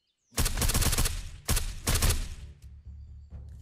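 Gunfire in the survival game Surroundead: a loud, dense burst of rapid shots, a brief pause, then two more sharp volleys that trail off into quieter in-game ambience.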